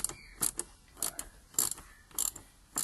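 A screwdriver turning a 7mm screw on a Porsche 911 996/997 air filter housing gives a ratcheting series of short, crisp clicks in small bursts, close and fairly loud, with no speech.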